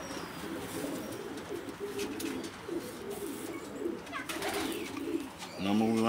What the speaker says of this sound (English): Beautiful bird.